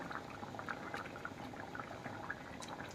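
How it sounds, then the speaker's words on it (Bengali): Vegetable curry boiling in a pot, a faint, steady bubbling and popping that keeps going throughout the clip. "টকবক করে ফুটছে, টকবক করে ফুটছে পুরো।"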